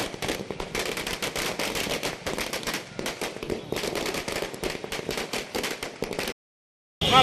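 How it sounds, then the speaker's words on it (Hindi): Dense, rapid crackling bursts of celebration fireworks going off continuously, loud and close, ending abruptly in silence, in Muzaffarpur. "इसके साथ ही जश्न मनाते हुए आतिशबाजी भी की गई।"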